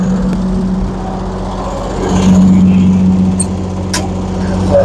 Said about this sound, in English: sorry about the noise, the big Commander 500, that big bastard's loud.